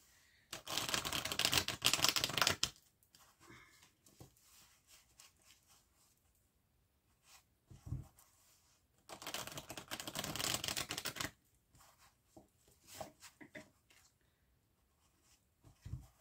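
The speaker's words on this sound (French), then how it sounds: "Donc, je vais bien les brasser." Tarot cards being shuffled by hand at a reading: two long, close bursts of rapid riffling and flicking separated by quieter rustling and handling, with faint scattered taps in between.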